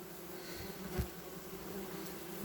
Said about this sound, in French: le téléphone est rempli de guêpes